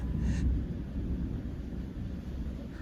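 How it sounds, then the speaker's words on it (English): Deep, low rumbling thunder rolls under a steady wash of heavy rain, loud and continuous throughout. "The sound of thunder and rain."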